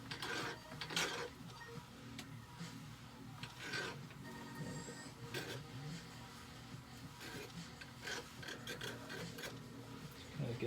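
Metal file rasping burrs off the edge of a sterling silver pendant with light pressure, a steady close scraping texture broken by short bursts of strokes, no talking.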